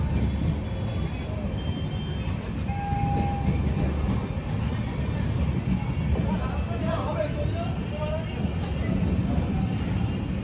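Shalimar–Okha Superfast Express, running with new LHB coaches, departing as a steady low rumble of wheels and coaches that continues throughout, with a brief horn-like tone near the start and faint voices underneath.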